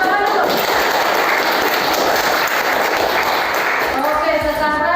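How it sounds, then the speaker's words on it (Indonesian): A school class claps together in a loud, dense burst of applause for several seconds, with voices talking over and around the clapping. "Tepuk tangan dulu."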